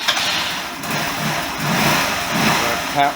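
A GY6 Chinese scooter engine runs at a steady idle, a fairly loud, continuous mid-range drone with a brief low harmonic rise near the end.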